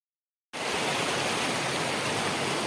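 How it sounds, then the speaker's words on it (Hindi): A stream in Namal Gorge, in Pakistan's Salt Range, flows strongly with dam-released water, a dense, loud, steady rushing roar that starts abruptly after a half-second of silence and continues unbroken. "यहाँ पर स्ट्रीम बहुत ज़्यादा फ्लो में वाटर आ रहा है,"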